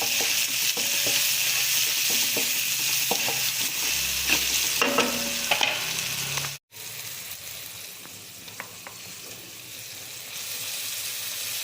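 Green chillies, salt and ginger garlic paste sauté in a pan for a Chettinad chicken kurma, giving a constant sizzle broken by stirring scrapes and clinks. It cuts out briefly mid-way and resumes, close and without talk.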